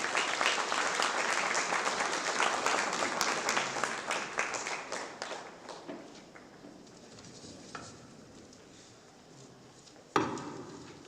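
Audience at the Ziro Literary Festival applauds as a speaker comes on stage, a loud dense burst of clapping that gradually thins into scattered claps, then a sudden sharp knock near the end.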